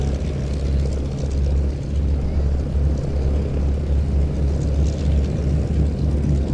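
A Me109 Buchon replica propeller aircraft lands with flaps down, its steady low engine drone holding at a loud, even level throughout as it is held off above the runway.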